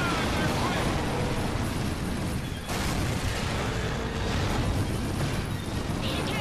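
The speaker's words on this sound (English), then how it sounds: "So many battleships exploding." Battleships explode in the video game Medal of Honor: Rising Sun: continuous heavy rumbling explosions and booming blasts fill the scene, dense and loud, with a sharp burst partway through.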